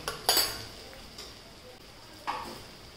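A spoon stirs spices into an onion-tomato gravy in a pan, giving a few sharp clinks and scrapes against the metal amid quiet background hiss.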